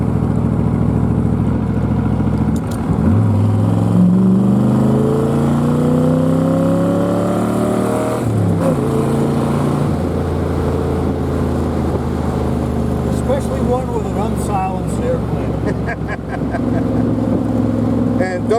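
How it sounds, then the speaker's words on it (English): Engine of a 1969 Chevrolet Corvette muscle car runs loud and steady from inside the cabin, its pitch rising and falling as it revs through gears, with people talking over it throughout. "There's just something about the sound and being inside a Corvette."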